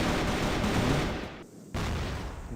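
Gunfire in the CrossFire video game during a headshot, a sustained burst of rapid shots that cuts out to near silence briefly before the shooting resumes, with no one talking.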